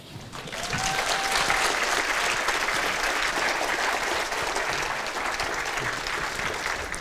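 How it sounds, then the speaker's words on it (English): An audience applauds a speaker at an event, a thick sustained roar of hand clapping that swells quickly and stays loud and steady for several seconds. "Give him another hand clap."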